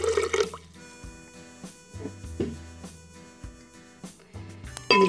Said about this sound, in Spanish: Lo que haremos es echar los 2 vasos de agua.